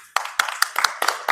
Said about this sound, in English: so this is class, big clap.